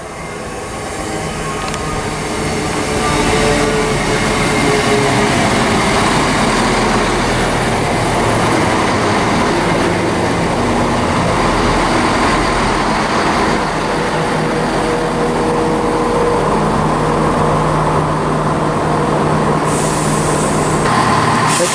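A ScotRail diesel train, formed of unit 170395 on the Edinburgh to Dunblane service, departs Linlithgow station with a loud, sustained rumble and rolling wheel noise that builds in the first few seconds and holds steady.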